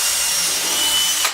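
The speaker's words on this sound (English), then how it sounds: "with a small bit, just a pilot hole if you will" A small drill bit boring a pilot hole into wood, a steady high whirring grind lasting a moment before stopping abruptly, close and loud.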